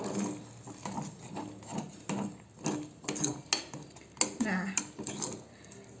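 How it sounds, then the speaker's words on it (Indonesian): A spoon is stirred through sweet pearl porridge (bubur mutiara) in a metal pot, making close, repeated rhythmic scrapes and clinks against the pot, with a brief spoken word at the start. "Setelah itu kita aduk rata."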